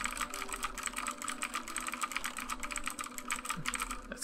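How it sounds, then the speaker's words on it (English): Fast, steady clatter of fingers typing on a computer keyboard while playing The Turing Test, keys tapping close and continuously at an even, brisk pace with no voices. "I can't type anything else."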